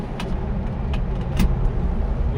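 A car engine runs steadily from inside the cabin as the vehicle drives through a village, a continuous close, fairly loud motor drone with road rumble, gear shifts made at mid throttle.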